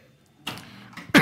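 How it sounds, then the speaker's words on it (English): A person coughs into a close microphone, a short harsh burst followed by a second stronger cough at the end after a quiet start. "I'm coughing."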